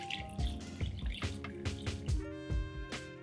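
Spiced water poured from a blender jar into a pot of Goan yam curry, a run of separate dripping, splashing pulses, close and clear with no talking.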